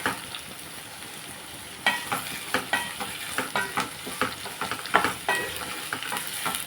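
Onions, curry leaves and green chillies sizzle in a hot pan for a fenugreek tamarind stew, starting as a soft hiss and then breaking into a loud, steady frying crackle with repeated stirring scrapes.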